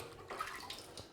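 Water running into a narrow sheep sausage casing, heard as a faint, brief gurgling trickle with small splashes, close but quiet, with no talk.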